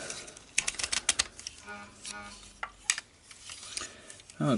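Plastic parts of a Jinbao Feral Rex transforming toy click and snap into place in several brief, close, light clicks with faint handling rustle between them.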